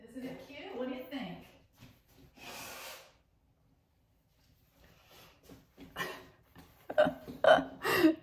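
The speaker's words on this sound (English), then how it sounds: "I don't want y'all to have to keep hearing me sniffle." Several wet sniffles and snorts, close and soft, scattered among quiet speech and breathy pauses.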